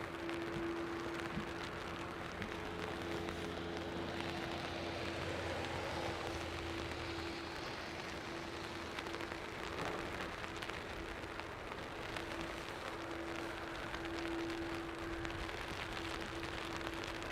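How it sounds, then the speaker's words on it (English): Steady rain falls across Dublin Airport, a dense continuous hiss of drops on hard surfaces that holds level throughout, with a faint tonal hum running beneath it. "Visibility dropping dramatically, as you can tell with the rain."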